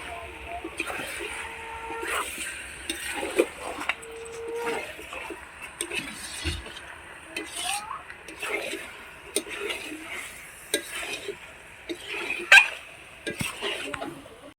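Chicken curry being stirred in a pot after hot water is added: scraping and clattering of a spoon against the metal with occasional splashes, a low sizzle underneath, and voices talking in the background.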